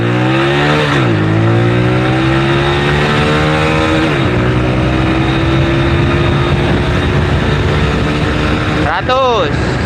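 Honda Mega Pro motorcycle fitted with a Primus carburetor ridden fast on a road, a loud close engine climbing in pitch through the gears with shifts, then a brief rev near the end.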